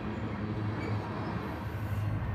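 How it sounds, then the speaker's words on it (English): Freight train of tanker cars rolls past with a steady, continuous low rumble and rail noise, heard from a short distance without talk. "That was a loud train, those tankers."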